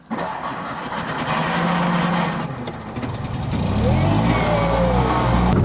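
A Zastava Koral car engine cranks and catches, then runs with a loud, rough, steady engine drone that builds slightly as it settles, heard close up from inside the car.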